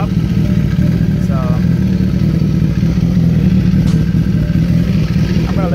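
A 2013 Suzuki GSX-R1000 sport bike idles steadily after an oil change, a continuous close engine drone running throughout with faint clatter on top.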